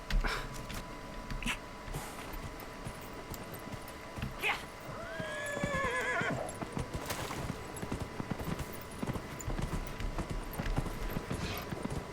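Horse in the video game Dragon Age: Inquisition, steady faint clip-clop of hooves throughout with a brief neigh in the middle, over soft ambient game sound.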